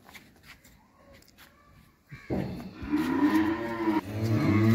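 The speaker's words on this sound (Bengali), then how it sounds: "এই হলো আজকে ৩ নাম্বার ফ্রিজিয়ান বকনা বাছুর" A nine-month-old Holstein Friesian heifer calf on a farm gives a loud, drawn-out moo, close by. Quiet background sounds come first, then the long low call rises and carries through to the end.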